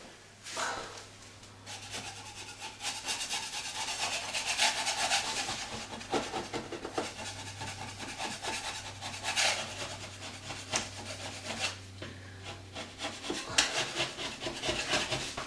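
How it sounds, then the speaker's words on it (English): A first coat of quickset drywall compound on a patch, lightly scraped with a blade in repeated rasping strokes, close and fairly faint under a steady low hum. "After I get the first coat on and I lightly scrape it like this"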